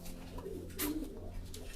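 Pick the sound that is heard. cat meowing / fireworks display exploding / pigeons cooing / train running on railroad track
pigeons cooing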